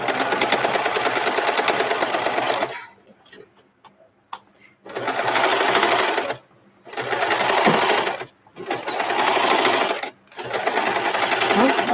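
A serger sewing machine stitches around the inside of a garment in long, loud, steady whirring runs with brief stops between them; talking can be heard faintly in the pauses.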